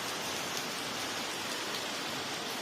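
Heavy rain pours down in a dense, steady hiss with no break, close and loud, and no voices.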